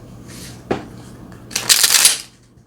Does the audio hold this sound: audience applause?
no